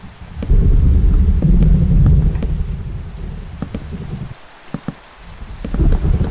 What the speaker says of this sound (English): It's a storm over us.